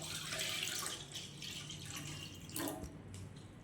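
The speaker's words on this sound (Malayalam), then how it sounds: "1/4 ലിറ്റർ പുളിവെള്ളം ഒഴിക്കുന്നു." Tamarind water poured into a pan of coconut-milk fish curry gives a faint, continuous liquid splash and trickle, close and quiet, with no talk.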